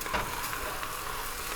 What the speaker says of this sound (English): Now we're gonna add our arborio rice.